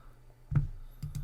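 A computer mouse gives a few soft clicks in a quiet room, with one click followed about half a second later by a quick pair.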